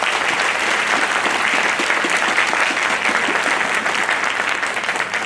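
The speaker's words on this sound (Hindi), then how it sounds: "साथियों मैं चाहता हूँ ये दोनों भाइयों के लिए एक बार जोरदार ताली" Crowd at a Rising Star event in Jamshedpur giving loud applause for two Double Diamond team members, a steady, vigorous wash of clapping at constant volume.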